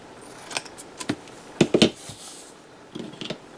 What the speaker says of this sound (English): I think I'm going to cut this one in half.